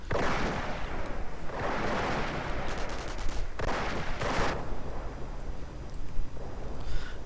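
Anti-tank guns firing in a World War II real-time strategy game, Soviets against Wehrmacht, as a dense, continuous roll of loud gunfire and shell blasts with several sharper bursts rising out of the din, no voices.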